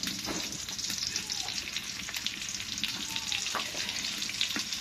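Garlic and onion crackle in hot tempering oil for a vegetarian dish, producing a dense, continuous sizzle with occasional sharper pops and light stirring knocks.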